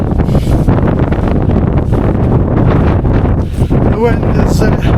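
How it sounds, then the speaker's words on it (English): Strong wind buffets the microphone on an exposed mountain ridge, roaring loudly and continuously with gusty surges throughout. "the wind is strong"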